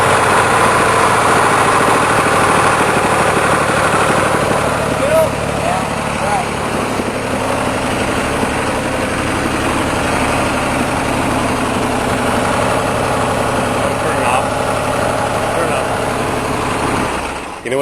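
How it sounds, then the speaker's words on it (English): A sprint car engine with a bad engine problem idles roughly and loudly up close, sputtering and backfiring at intervals throughout, with voices talking over it and the sound cutting off at the end. "You know what that backfiring is?"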